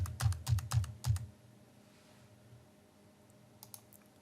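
Bracket keys on a computer keyboard pressed four times in quick succession while resizing a brush in Photoshop, crisp close taps followed by quiet room tone and a couple of faint clicks near the end.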